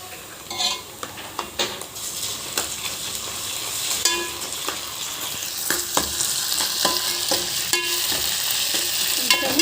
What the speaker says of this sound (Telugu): వన్ స్పూన్ అల్లం వెల్లుల్లి వేస్తున్నాను